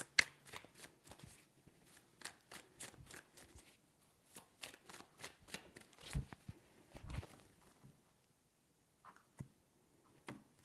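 Tarot cards being shuffled nearby in a series of soft riffling snaps and taps, irregular in rhythm and fairly quiet, with brief gaps between bursts and no talking.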